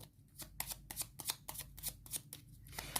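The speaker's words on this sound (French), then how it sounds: "on remélange tout simplement les cartes de la défausse" Playing cards from a discard pile being riffled and reshuffled at a tabletop game, a quiet, steady run of crisp flicks and soft snaps repeating for several seconds with no talk.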